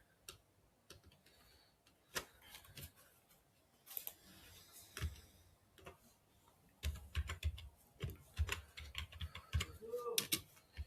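JavaScript code being typed on a computer keyboard: fast, irregular bursts of clicking keystrokes, close and fairly quiet, with short pauses between runs of typing.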